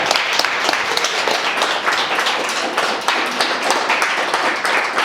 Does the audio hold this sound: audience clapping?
yes